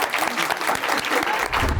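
Audience applause at a Turkish entertainment show, steady dense clapping throughout, close and loud, with some voices mixed in.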